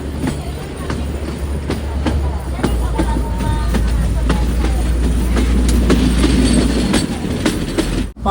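A 110-year-old narrow gauge passenger train runs between Bilimora and Waghai in Gujarat, with a steady loud rumble, rhythmic wheel clatter and creaks heard from aboard, and a low murmur of passenger voices throughout.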